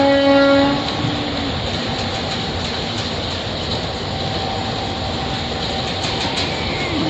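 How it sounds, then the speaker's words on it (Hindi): A Gandhidham–Palanpur passenger train heard from the first coach right behind the engine, with a loud horn blast at the start followed by a steady rumble of the moving train, close and continuous. "Gandhidham Palanpur passenger train. ये हॉकिंग हो रही है, पहले ही डिब्बे में हम बैठे हैं, इंजन के एकदम पास।"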